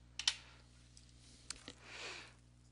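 Keystrokes on a computer keyboard entering short note commands in meeting note-taking software, a few quick clicks up close in a quiet room, then a soft brushing sound.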